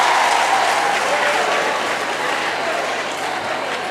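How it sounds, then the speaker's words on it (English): Steady applause from a homecoming audience clapping for the school father, a broad wash of many hands that fades slightly as it continues, with no talking over it. "Clap for him. Clap for him."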